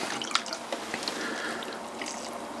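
Water splashed and dribbled onto wet clay spinning on a pottery wheel while a tall sodium silicate vase is being thrown, giving soft drips and squishy wet sounds at close range with no talking.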